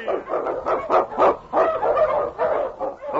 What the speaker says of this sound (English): The Wonder Dog King, swiftest and strongest of Eskimo lead dogs